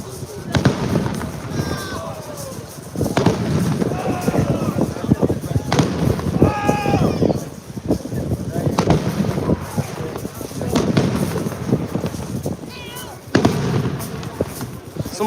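Fireworks pop and crackle repeatedly in the distance during night-time race day at the Le Mans 24 Hours, while people talk and shout nearby, with wind buffeting the microphone.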